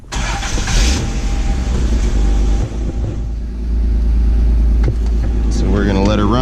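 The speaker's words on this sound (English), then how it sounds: "start up the vehicle for about 15-20 seconds to let that oil filter fill up" A 1988–95 Toyota 4Runner with the 3.0L 3VZE V6 engine starts and settles into a steady, loud, close idle right after a fresh oil change, with a brief rising rev near the end.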